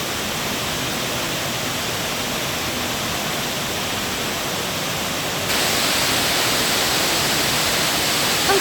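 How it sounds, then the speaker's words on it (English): Indoor cascade waterfall inside the Opryland Hotel, set among lush jungle-like plantings, gives a steady broadband rush of falling water that stays close and continuous and grows slightly louder partway through, with no voices over it. "And here's another beautiful view of that waterfall"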